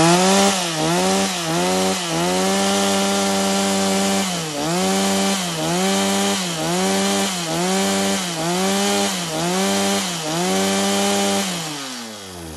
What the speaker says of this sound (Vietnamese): bây giờ thì em sẽ test nổ cho các bác nghe qua tiếng máy nó sẽ như thế nào các bác nhé